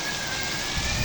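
Heavy rain pours steadily in a dense, continuous hiss, close and loud, with no voices.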